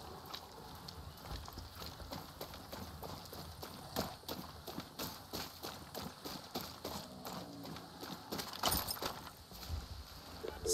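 A horse ridden in the video game Far Cry 6: steady clip-clop of hooves in a quick, running rhythm, with faint ambient game sound underneath.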